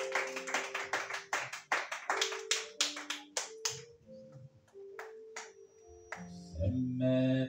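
A church congregation claps in a lively run of sharp, rhythmic hand claps during a worship service, then the clapping thins out as organ or keyboard chords and voices rise toward the end.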